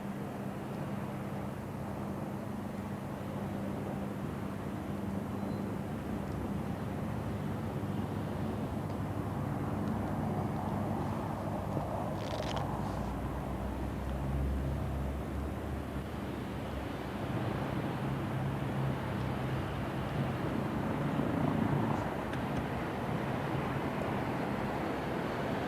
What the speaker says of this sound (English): the Comet passes over Heathrow with London in the background.